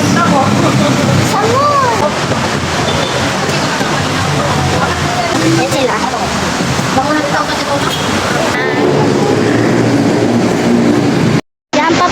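A train running steadily and loud throughout, its rumbling, rattling ride mixed with voices nearby, broken by a brief dropout near the end.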